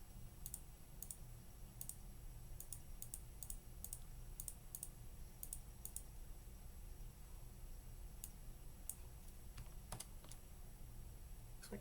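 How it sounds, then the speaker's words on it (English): Rapid computer mouse clicking in quick irregular bursts over a steady background hiss, crisp and close, with brief pauses between clusters of clicks. "So we'll just do some speed clicking."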